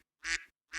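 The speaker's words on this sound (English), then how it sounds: "Isn't that a duck?" A single duck's quack, short and fairly close, gives two nasal bursts in under a second with a gap between them.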